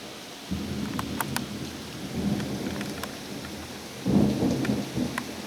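Thunder rumbles low and long through steady rain during a rainstorm in Austin, Texas, swelling to a louder, deeper roll near the end while rain hisses continuously.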